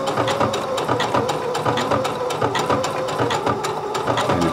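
A sewing machine stitches fabric for a pair of shorts with a fast, even mechanical chatter, close and continuous, with no voices.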